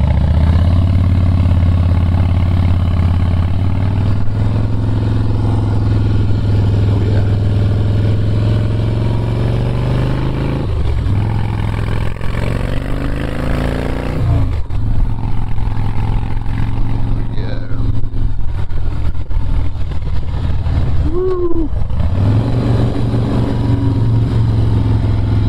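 A 2005 Harley-Davidson Softail Springer Classic rumbles loudly on the road, its deep engine note rising and dipping with throttle changes under steady wind noise, and a rider talks over it at times.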